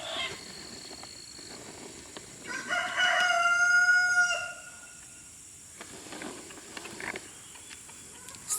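A Silkie rooster in a farm pen gives one drawn-out crow midway, with faint scattered clucks and soft clicking before and after, moderately near and no talking.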